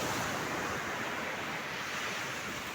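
Ocean waves at Candolim Beach in Goa roll in a steady, soft wash of surf with some wind noise, heard alone without voices.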